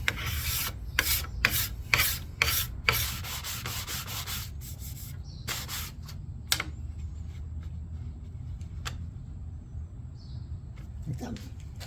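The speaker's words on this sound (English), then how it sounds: "you fold that metal over and that's what grabs the wood, the surface, and scrapes it off" Hand scraper with a folded metal edge shaving the wooden surface of a dining room chair, a series of rapid, close, rasping strokes that taper into occasional single scrapes and quiet background.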